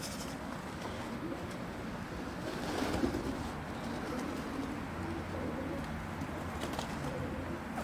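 Pigeons cooing steadily outdoors at a loft in Aigaleo, soft repeated coos over a continuous ambient background, no talking.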